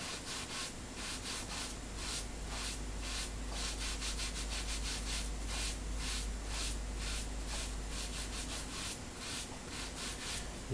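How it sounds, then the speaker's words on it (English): Rubbing by hand over a pottery surface painted with shellac resist, a continuous close scrubbing with a quick repeated back-and-forth rhythm over a low steady hum, no voices. "I'm now going to rub over where I painted it over with a shellac."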